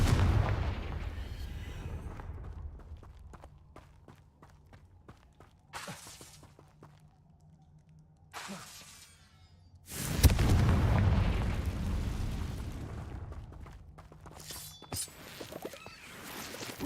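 Confringo fire spells in the Hogwarts Legacy video game burst as heavy, booming explosions, with a big blast at the start and another around ten seconds, trailed by rumbling decay and smaller impacts.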